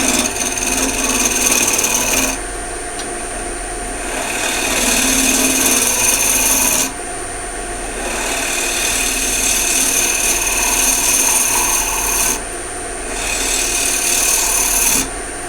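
A wood turning tool cuts across the spinning bottom of a wooden box lid on a lathe, a loud steady hiss and scrape rising in three long passes over the constant low hum of the lathe, with no talk.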